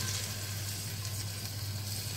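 Apricot tagine sizzling steadily in the pot over gentle heat, a continuous soft frying hiss with a low hum beneath, no voices.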